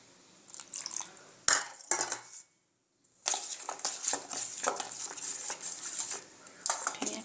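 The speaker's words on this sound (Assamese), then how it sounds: "ধুনীয়াকৈ বেটাৰখিনি মিক্স কৰি লৈ ল'ম।" Batter for Assamese fried fritters being mixed in a bowl: a steady run of wet clinks and scrapes, broken by one sharp knock and a brief silence, then vigorous stirring resumes close by.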